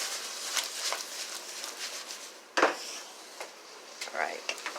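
Chickpeas coated in ground cumin being tossed in a frying pan, giving soft scraping and rattling clatter with one sharper knock, over a faint sizzle with light background talk.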